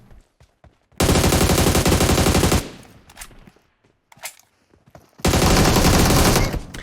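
An AUG assault rifle fires in PUBG Mobile as two long, loud full-auto bursts, each about one and a half seconds. Faint clicks and soft game sounds fill the gap between them.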